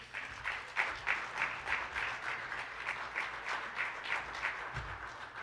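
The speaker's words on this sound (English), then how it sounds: "Let's give another round of applause to our president of this amazing place." Audience applause at the 2022 AAU Gussie Crawford Lifetime Achievement Award Ceremony: steady, rhythmic clapping from a mid-sized crowd, filling the room evenly at moderate volume for several seconds.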